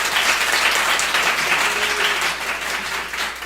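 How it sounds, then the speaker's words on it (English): Sustained applause from an audience congratulating presenters at an event, loud and dense, with many hands clapping together in a continuous roar that stays full for the whole stretch. "give yourself a round of applause"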